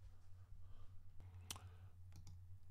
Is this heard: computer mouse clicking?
yes